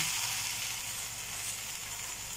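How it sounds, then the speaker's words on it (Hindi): A Spanish omelette sizzles steadily in a pan while its second side cooks, giving a close, even frying hiss with no talk over it. "अभी इसे दूसरी साइड से पकाना है।"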